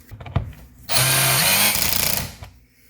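A power driver sinks screws into a BMW X passenger-side interior door panel, one loud, steady whir lasting about a second and a half after a few light clicks, then tapering off.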